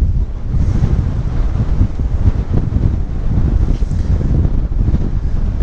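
Strong wind roars steadily into the microphone during a motorcycle ride, a loud, unbroken rumbling buffet with no talking.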